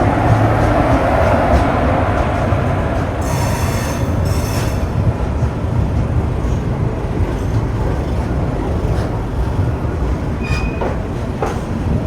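Himsagar Express passenger train running steadily with a continuous loud rumble of wheels on rails, brief metallic squeals and clatter rising over the constant onboard roar, no talk.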